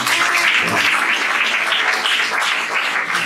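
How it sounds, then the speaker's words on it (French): A congregation applauding in a church during a Sunday service, with steady, dense clapping from many hands, loud and close, filling the room without a break. "C'est pour ça qu'on acclamer les Seigneurs."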